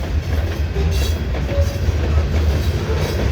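A CN freight train with auto racks passing close by, a loud continuous rumble of rolling wheels with rhythmic rail clatter.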